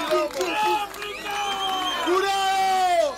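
A crowd at a freestyle rap battle cheers, whoops and shouts throughout. The sustained, overlapping voices are loud and close, with a few sharp cries rising above the general roar.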